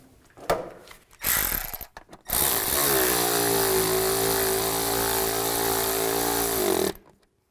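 A power tool runs in a long, loud, steady whir near the mic, tightening bolts on the thermostat housing of a 2005-15 Nissan Xterra after a few short starts.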